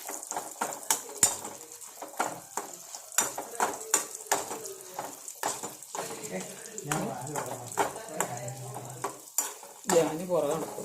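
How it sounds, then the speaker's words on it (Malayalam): Chillies frying in oil in a small pan in a home kitchen, with sharp spoon-on-pan scrapes and clinks over a low sizzle, while a person speaks at intervals throughout. "മുളക് വറുക്കാം."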